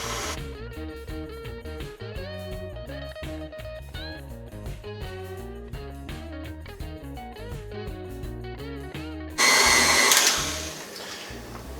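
A stand mixer with a paddle attachment runs steadily, mixing flour into figgy pudding batter, a close, even motor whir under background music.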